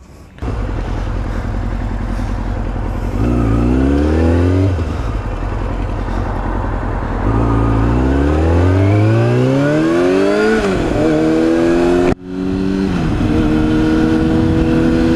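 A motorcycle with a freshly lubed chain and a newly mounted tire revs hard up close, its engine pitch climbing and dropping through repeated gear changes as it rides off, loud and steady with no talking.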